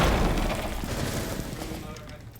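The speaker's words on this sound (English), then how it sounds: "There's some gunshots, but I don't see anyone engaged right now." Gunfire in a Rainbow Six match between college teams: a loud, muffled rumble of shots and booms that blur together and fade over two seconds, with a voice talking over it.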